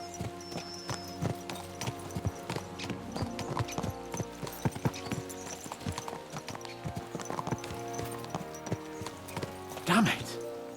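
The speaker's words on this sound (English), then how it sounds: "Let's really spur these horses on, eh?" Horses clip-clop at speed in the video game Kingdom Come Deliverance II: steady rhythmic hoofbeats with harness jingle throughout, a whinny near the end, and talk running over much of it.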